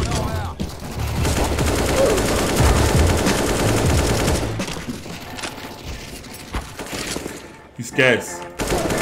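Rapid automatic fire rattles in Counter-Strike, dense and loud for several seconds, then thins out, with someone talking over the shooting near the end.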